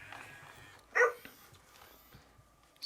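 A Hasbro Joy for All robotic companion dog gives a single short bark, loud and close, against a quiet room with faint background noise.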